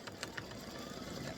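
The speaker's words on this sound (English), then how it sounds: "I'm just going to stitch this decorative fill" Embroidery machine stitching a decorative fill in light silver thread on an in-the-hoop mug rug side panel, a steady close mechanical whir with faint repeated needle ticks throughout.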